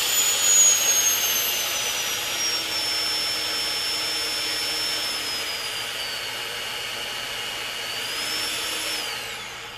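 A FEIN Slugger MagForce 90 magnetic drill running, a steady high-pitched motor whine close by with no talking, shifting pitch slightly near the end as the speed changes.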